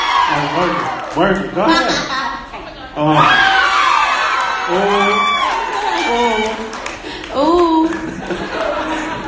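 A live audience cheers, whoops and shouts loudly and continuously, with bursts of clapping, while voices call out close by.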